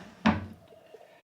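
A cupboard door in a hotel room opens with a single near wooden knock and soft creak, followed by faint small rattles in a quiet room, then another bump at the end.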